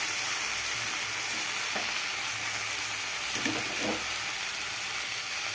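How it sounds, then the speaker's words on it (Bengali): Spice paste sizzles steadily in a hot pan as hot water is poured in, giving a continuous broadband hiss with a few soft scraping knocks, close and fairly loud, with no talking. "এবার গরম জল দিয়ে দেবো।"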